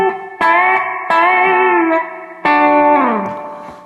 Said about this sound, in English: I want to emulate a spring reverb in an amp.